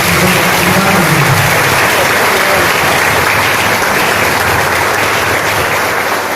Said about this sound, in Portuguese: Vamos aplaudir para a Maria.